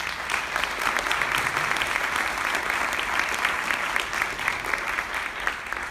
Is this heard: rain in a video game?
no